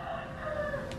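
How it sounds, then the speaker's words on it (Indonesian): A rooster crows one drawn-out call, moderately loud and slightly distant, outdoors with a faint background hum. "Ini dari tadi suara ayam berisik banget ya."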